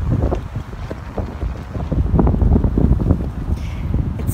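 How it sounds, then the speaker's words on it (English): Strong wind roars and buffets the microphone continuously on a backcountry lake trip in Temagami, a heavy low rumble with gusty surges and no pauses. "It's really, really windy today."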